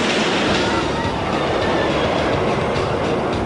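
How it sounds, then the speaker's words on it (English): A roller coaster train hauled slowly up the first hill by a chain lift gives a steady, continuous mechanical rumble with faint rhythmic clatter, loud and close throughout. "A slow chain or cable lift pulls the train up the first hill, releases it, and gravity takes over."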